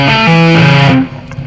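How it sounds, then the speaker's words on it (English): Distorted electric guitar plays a quick pentatonic tapping lick, a few sustained tapped and pulled-off notes stepping in pitch, loud and close, alone. "This tapping lick is based around a pentatonic box."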